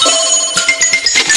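A telephone rings in a Hindi-dubbed cartoon, a bright electronic ringtone with a pulsing rhythm, loud and close, heard alone without any voices.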